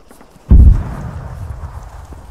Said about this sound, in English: I can hear those explosions.